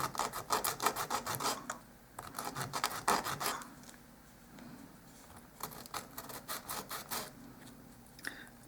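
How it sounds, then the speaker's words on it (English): Sandpaper rasping across the end of a small wooden dollhouse miniature piece, quick back-and-forth strokes in short bursts with brief pauses, close and fairly soft. "So we're going to sand off the end just a little bit."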